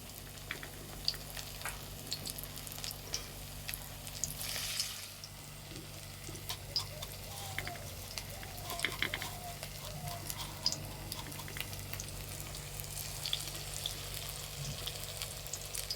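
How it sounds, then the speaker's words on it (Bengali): Cauliflower pakoras coated in batter and flattened rice fry gently in oil over low heat, a soft continuous sizzle with faint crackles and light clinks, fairly quiet throughout. "এই তেলেই ভেজে নেব।"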